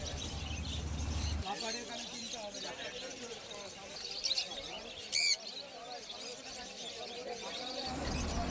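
Finches at the Galif Street pet market chirp in short, thin bursts amid a busy market hubbub, with a voice talking through most of it.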